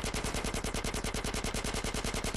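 Sustained automatic gunfire in GTA San Andreas Remastered aimed at a fleeing car's tires: a rapid, evenly spaced stream of about twenty sharp shots in under three seconds, close and steady.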